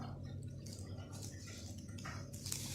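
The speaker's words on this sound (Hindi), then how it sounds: "अब इसमें हम ऑयल डालेंगे।" Cooking oil is poured into a bowl of bread dough ingredients for a stuffed chicken bread, giving a faint, soft liquid trickle and drip against quiet room noise.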